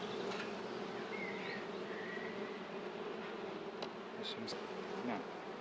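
Honey bees from an opened hive during a spring inspection, a steady dense buzz of many insects heard close and continuous, with a few individual bees passing near.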